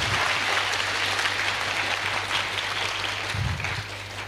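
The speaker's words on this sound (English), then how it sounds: "Can we clap for these role models that we have?" Steady applause for teachers at a community event, a dense wash of clapping from an audience that holds for several seconds and tapers slightly near the end, with little speech over it.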